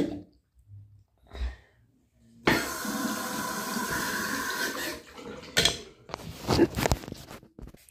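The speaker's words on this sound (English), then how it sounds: "time to go brush my teeth" A bathroom tap runs steadily for a few seconds during tooth brushing, then shuts off, followed by light clattering and knocks at a sink, fairly close and quiet.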